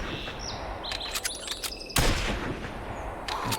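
A hunting rifle fires a single sharp shot in the hunting video game The Hunter Classic, a loud crack partway through, with bird chirps and calls scattered through the quiet forest ambience before and after it.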